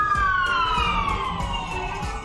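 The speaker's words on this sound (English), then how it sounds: "Our first siren of the stream." A wailing emergency siren in a game stream, its pitch sweeping steadily downward, loud and continuous over a low rumble with no talk.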